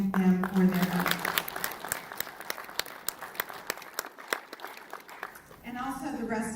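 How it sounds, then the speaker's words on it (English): Applause from the audience at an award ceremony honouring an executive-in-residence recipient, dense and steady for several seconds before thinning into scattered claps, with a voice resuming speech at the end. "So let's show a round of applause to thank them for their work."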